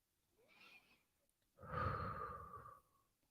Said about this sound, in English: so just breathe in and out